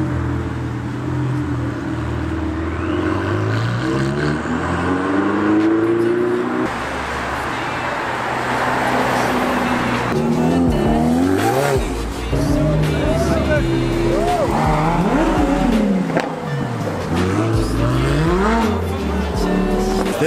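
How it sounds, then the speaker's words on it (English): A Koenigsegg Agera RS supercar engine revs and roars up close at a dealership, pitch rising and falling through repeated throttle blips, with voices chattering in the background. "This is a Koenigsegg Agera RS."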